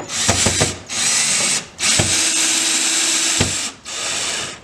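A power drill runs at low speed, driving screws into the plastic housing of a Rachio WiFi sprinkler controller. It gives three loud, close bursts of steady whirring with short clicks and pauses between them.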